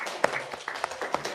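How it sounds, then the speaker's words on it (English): At a fellowship graduation ceremony, a handful of scattered, separate handclaps sound fairly close and soft over a faint room hum. "All of you should clap,"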